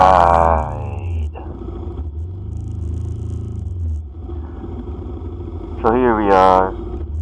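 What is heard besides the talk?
riding a vehicle along Taft Avenue under the LRT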